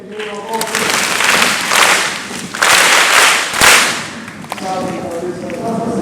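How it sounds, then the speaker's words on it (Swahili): A group of children at a Catholic gathering claps for themselves in loud, dense applause with a few sharp standout claps, swelling and fading in waves over six seconds. "Watoto mjipongeze sasa, mjipigie makofi."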